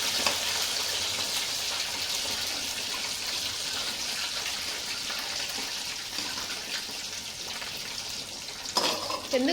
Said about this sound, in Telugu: ఇలాగా మీరైతే కొంచెం ఫ్రై చేసుకోవాలి వాటర్ లేకుండా